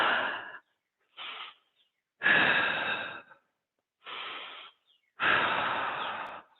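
Slow, deep yoga breaths held in a warrior one posture: five drawn-out breaths alternate between shorter inhales and longer, fuller exhales, each separated by silence. The breathing is close and airy.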